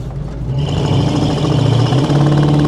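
A 1987 Chevrolet K10 Silverado with a 350 V8 and automatic transmission revs under throttle, the steady engine note rising and holding loud and close for a few seconds, heard from inside the truck on a test drive.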